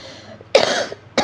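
One close, loud cough with a rough burst, followed by the start of a second cough, no speech.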